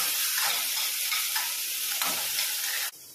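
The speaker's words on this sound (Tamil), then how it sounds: "இதை போட்டு ஒரு செகண்ட் வதக்கி விடுங்க" Sweet corn and vegetables sauté in a pan with a loud, dense sizzle and rhythmic stirring scrapes, close up, before the sizzle cuts off abruptly near the end.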